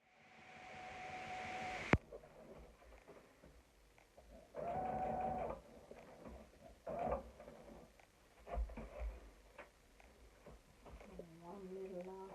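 A domestic sewing machine top stitches around a fabric sanitary towel holder in several short whirring bursts separated by pauses, close and fairly quiet, with faint handling noises between runs.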